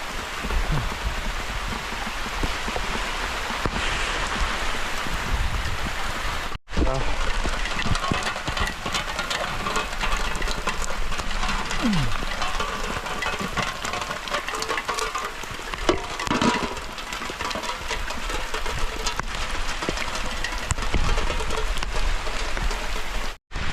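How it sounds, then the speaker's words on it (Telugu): Heavy rain drums hard and continuously in a hillside valley at an outdoor cooking spot, a loud, dense wash with occasional sharper knocks and one brief dropout. "వర్షం అయితే బాగా ఎక్కువైపోయింది, చాలా ఫుల్గా"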